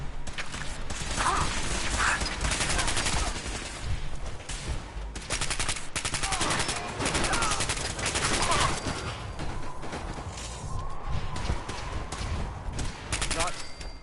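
Gunfire in the video game Redsec, dense and continuous automatic bursts with mechanical clatter, heavy and close throughout, while voices shout over the shooting.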